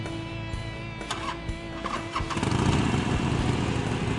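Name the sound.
Harley-Davidson motorcycle engine starting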